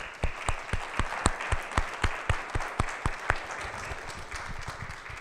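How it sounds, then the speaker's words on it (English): An audience at the 2019 Homelessness & Justice Summit gives a round of applause for its president: many hands clapping steadily and fairly close, a dense rhythmic patter that holds for several seconds before starting to thin. "So I'd like to give Mary Steiner, our president, a round of applause."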